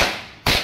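A Diwali firecracker bursts once with a sharp, loud broadband crack near the end, following a low, steady outdoor hiss.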